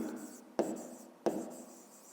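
Pen or chalk writing out math notation for a fifth-grade exercise, steady scratchy strokes with two sharper taps where new marks begin, close and fairly quiet, no talk.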